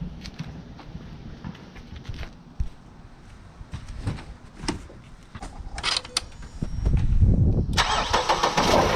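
A Ford car engine cranks and catches after servicing, turning over and then settling into a loud, steady running idle close by, with no talking.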